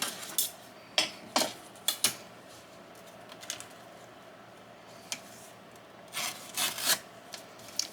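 Scissors trimming vintage postcards for journal pages, giving short crisp snips and paper rustles in small bursts, close and quiet with pauses between cuts.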